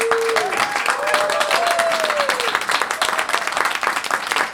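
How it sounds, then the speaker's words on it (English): Studio audience applauds a guest comedian on a comedy show, a full round of clapping with some cheering, while a rising and falling tonal whistle or musical sting sounds over the first half. "So how about a big round of applause for our special guest comedian, Doug Chappel."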